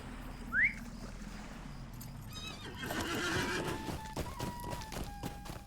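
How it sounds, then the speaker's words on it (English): A horse in the Lord of the Rings Online video game neighs once, a short, rising whinny, followed by steady clip-clopping hooves and game ambience, with no talk over it. "There is a horse."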